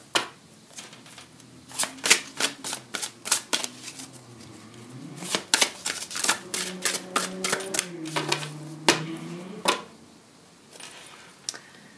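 Tarot cards being shuffled by hand, a run of crisp rapid riffling snaps and flicks close up, pausing briefly before another burst, with a faint voice in the background.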